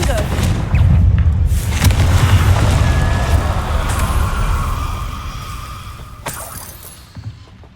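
The Confringo blasting spell going off in a video game: a loud booming explosion with shattering debris and a long rumbling tail that fades, then a sharp crack near the end, with speech briefly present.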